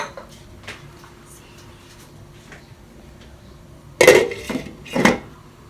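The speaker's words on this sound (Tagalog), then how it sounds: "Takpan natin ito at pakuluan." A pot of coconut milk on the stove goes quiet before a lid drops onto it with a loud metallic clatter and rattle, followed by a second clank as the lid settles.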